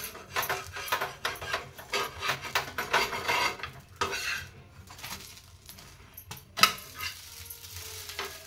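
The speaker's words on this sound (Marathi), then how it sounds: "आता आपण डोसा पलटी करूया।" Paper dosa being flipped on a griddle: irregular scraping and clinking of a metal spatula on the hot pan, with one sharp louder clank near the end and quieter pauses between strokes.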